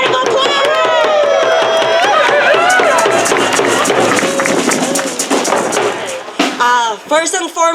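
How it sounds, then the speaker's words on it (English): Applause and cheering from a crowd at an outdoor protest rally against homelessness sweeps, loud and sustained, with voices shouting over the clapping before it thins out into scattered talk. "Let's give a big round of applause!"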